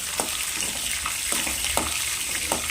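Green chillies fry in hot oil with tempering spices, giving a continuous crackling sizzle, with a few soft spoon taps against the pan and no one talking.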